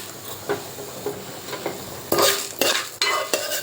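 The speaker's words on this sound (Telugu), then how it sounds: "ఇవన్నీ చక్కగా ఫ్రై అయ్యే వరకు దగ్గరుండి మరీ మీడియం ఫ్లేమ్లో పెట్టుకొని వేయించుకోండి" Fenugreek seeds fry in a pan over a medium flame, giving a soft steady sizzle broken by several sharp scraping stirs from a spoon, close by and with no talk.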